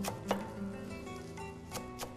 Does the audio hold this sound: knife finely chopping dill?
yes